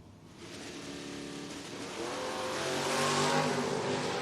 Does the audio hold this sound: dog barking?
no